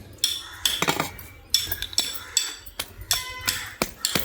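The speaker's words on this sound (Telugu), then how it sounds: "ఇలా వేసేసి దంచేసుకుంటాం" Irregular hard knocks and clinks, close by, as a heavy stone pounds raw mango with coconut in a stone mortar, roughly a dozen strikes with short pauses between them.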